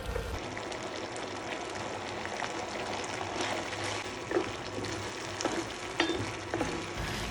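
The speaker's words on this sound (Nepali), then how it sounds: "यसलाई चाहिँ हजुरहरूले चलाउँदै कम्तीमा पनि 2-3 मिनेट चाहिँ पकाउनु पर्ने हुन्छ।" Fried garlic and sauce stirred together in a pan, a soft continuous sizzle with light scraping and occasional sharper clinks of the utensil, quiet and close with no talk.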